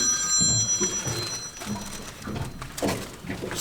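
A mobile phone rings with an incoming call on a fishing trip, its tonal ringtone repeating over wind and water noise, with a brief burst of movement near the end.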